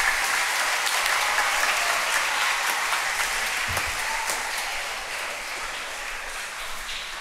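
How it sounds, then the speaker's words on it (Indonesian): A crowd applauds steadily, a dense patter of many hands clapping that slowly fades toward the end, at a Sunday Catholic Mass. "Tepuk tangan,"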